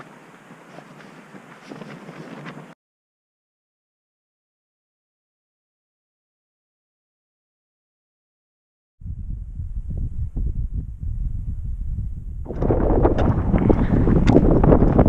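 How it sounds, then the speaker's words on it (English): Strong wind buffets the microphone outdoors on a mountain trek in the Sylarna area, coming in broadband rushing gusts that cut out to silence and then return louder and rougher toward the end. "It's really windy today."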